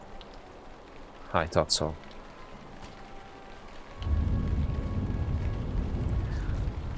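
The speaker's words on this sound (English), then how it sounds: "here comes the rain" Rain begins falling in the Lord of the Rings Online video game, a steady hiss that swells suddenly midway and continues loudly, following a few brief spoken words.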